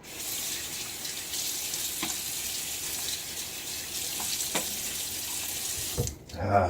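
Cold hard water runs from a bathroom tap into a sink while someone wets their face before a wet shave, a steady close splashing stream that stops abruptly near the end.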